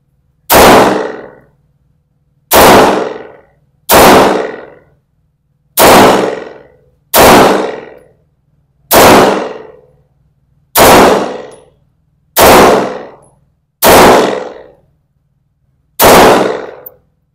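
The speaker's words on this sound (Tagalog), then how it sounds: "Firing." Ten sharp gunshots from a Sarsilmaz Kilinc 2000 Light pistol at a firing range, loud, close and evenly spaced roughly every one and a half seconds, each with a short ringing decay and silence between.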